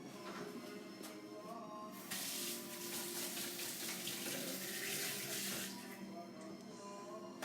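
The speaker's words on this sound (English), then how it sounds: "now let me wash my hands" Tap water runs steadily into a kitchen sink as hands are washed while making potato pizza, a continuous close hiss and splash that swells louder midway, with faint background sound throughout.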